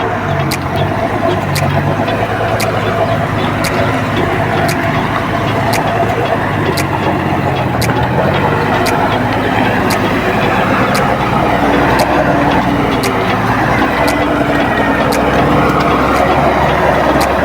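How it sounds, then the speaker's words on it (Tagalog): A large loaded truck grinds along a muddy track on its way to Kabankalan, its engine and rolling noise forming a loud, steady drone that fills the whole stretch without a break. "Malaking truck yan, eh mga idol, yung kinargaan namin ngayon."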